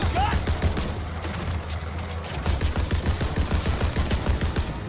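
Machine gun fire in a World War 2 video game rattles in rapid, dense bursts that run almost continuously, with a voice talking over the shooting.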